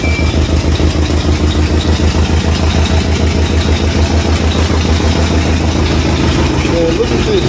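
A Chevy Caprice engine idles roughly and loudly up close, a steady low throbbing rumble with an uneven pulse running throughout.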